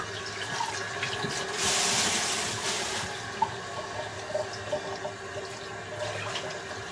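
Tap water runs steadily into a sink to rinse raw packaged chicken, a continuous close splashing hiss with a brief louder surge and small thumps of handling.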